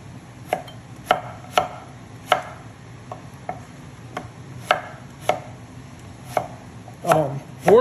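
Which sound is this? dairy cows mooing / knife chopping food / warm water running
knife chopping food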